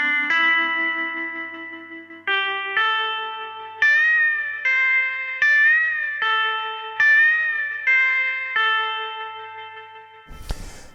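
An iPad synth playing a slow sequence of sustained, bright tones, each note swelling in a vast gothic church reverb and fading into the next, ending with a brief noisy burst.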